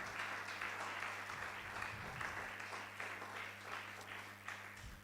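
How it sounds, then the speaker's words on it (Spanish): A church congregation applauds during a Sunday service, a sustained wash of many hands clapping, faint and distant, over a low steady electrical hum. "Dale otro aplauso al Señor."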